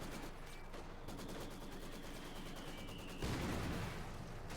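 Mortar and Maxim machine gun fire in Company of Heroes 2, with rapid continuous gunfire rattling throughout and a heavier low thump of a mortar blast near the end, no talking.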